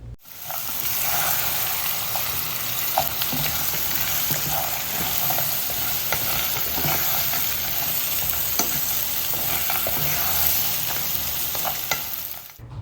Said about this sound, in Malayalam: നന്നായിട്ട് ഇളക്കിയിട്ട് ജസ്റ്റ് ഒന്ന് ഒരു 3 മിനിറ്റോളം ഒന്നിങ്ങനെ ഫ്രൈ ചെയ്ത്